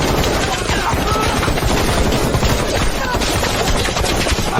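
Rapid bursts of heavy gunfire crackle loud and close in a dense, continuous barrage, rattling without pause for the whole stretch, with no clear talk above it.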